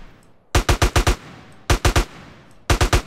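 An M4 rifle fires in GTA San Andreas in three quick bursts of four to five sharp, loud shots each, with short silent gaps between the bursts.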